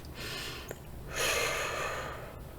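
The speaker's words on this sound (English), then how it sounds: "Take a step back, take a deep breath," A person draws a deep breath during a mindfulness exercise, a soft airy inhale followed by a longer, louder rush of breath out, close and alone with no talking.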